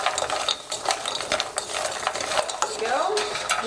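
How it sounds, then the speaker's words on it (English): Hazelnuts being stirred in caramelizing sugar in a pan, giving a close, busy scraping and rattling with irregular clicks and a light sizzle throughout, no voices. "Just keep stirring and stirring."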